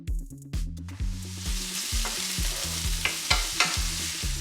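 Four minced garlic cloves hit hot oil in a pan for shakshuka, giving a steady close sizzle with a spoon stirring in regular scraping strokes about every half second, and no voices.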